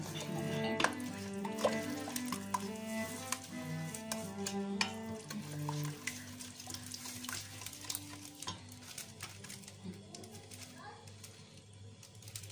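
Powdered milk mixed with milk, stirred in a pot on the stove for a chocolate milk spread, with soft scraping and a gentle sizzle under someone talking at close range.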